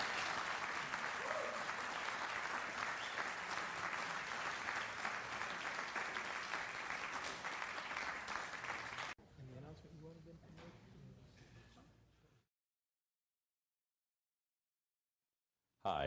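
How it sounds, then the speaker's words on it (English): An audience gives a steady round of applause, dense and even for about nine seconds, then drops to a quieter tail with some murmuring before falling silent. "Can we give a round of applause?"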